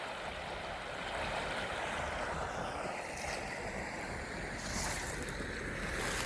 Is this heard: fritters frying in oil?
no